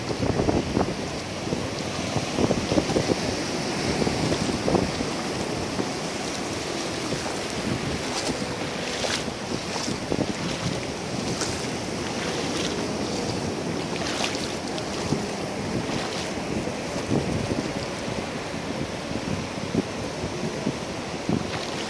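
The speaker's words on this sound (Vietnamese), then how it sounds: "Tiếng sóng biển rất là đặc trưng như các bạn" Sea waves at Bãi Sau beach in Vũng Tàu at low tide roll in continuously, a steady wash of surf mixed with gusty wind buffeting the microphone, no voices.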